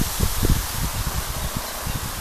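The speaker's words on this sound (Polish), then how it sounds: "wiatr mamy wschodni" Strong gusty wind buffeting outdoors, a loud broadband roar with low rumbling thumps, no voices.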